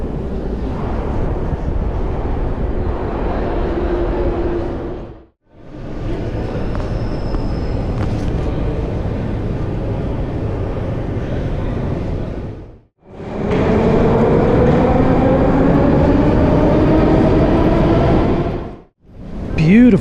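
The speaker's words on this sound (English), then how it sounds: "the signs are blocked by the train entering the station" Moscow Metro train rumbling and rolling through a station, a steady loud roar in three long stretches separated by brief quiet gaps, with a rising whine as the train moves.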